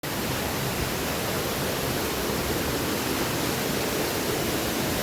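Steady, dense rushing of the Jhinkra waterfall, with red-coloured water, a constant broadband roar with no pauses, fairly close and unbroken throughout.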